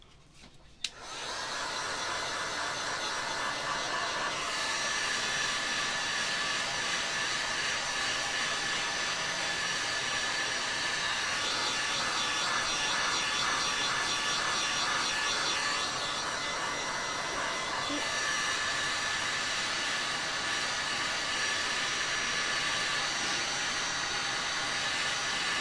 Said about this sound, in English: let me get my dryer here.